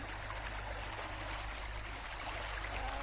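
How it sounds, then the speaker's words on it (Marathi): A natural village spring that runs year-round, its water flowing in a steady, close, continuous trickling wash with a low hum beneath and no voices. "इथून पाणी येते."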